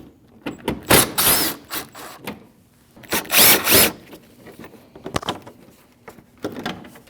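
Power tool bursts as 8 mm bolts come out of a 2014-2023 Jeep Cherokee 2.4L during a water pump replacement: two loud whirring runs with a few sharp clicks and knocks between them, close by and without talk.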